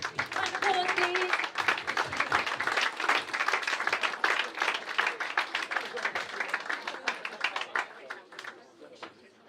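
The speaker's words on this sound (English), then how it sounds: "Round of applause, please." Awards-night audience clapping after a season thank-you, a dense run of handclaps that thins and fades toward the end, with some voices mixed in.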